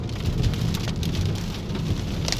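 Steady rain falls during a rainy day out in traffic, a dense continuous hiss with no voices.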